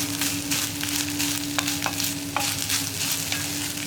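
Grated coconut stirred and fried over a high flame for chena erissery, a steady close sizzle with a few sharp scraping clicks of the spoon against the pan, alone without voices.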